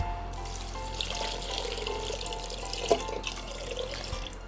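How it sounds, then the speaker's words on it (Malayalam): Water runs steadily into a metal pressure cooker, a continuous pouring hiss with a faint hum beneath and one small clink. "ഇനി വെള്ളം ഒഴിച്ചു കൊടുക്കാം."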